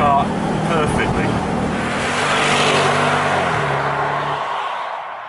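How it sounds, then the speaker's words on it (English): A Bentley GTC V8 engine hums and revs steadily nearby, its low harmonic drone shifting pitch as it runs, with a person talking over it throughout before the sound fades at the end. "Typical Bentley noise."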